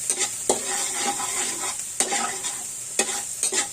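Garlic frying in a pan while being stirred, a steady close sizzle broken by a few sharp utensil scrapes against the pan.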